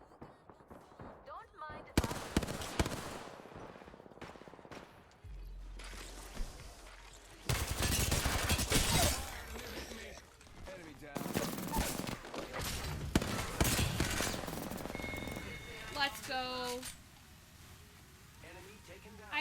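Apex Legends firefight with rapid bursts of automatic gunfire and heavy impacts, loud and dense through the middle, under excited player chatter and laughter.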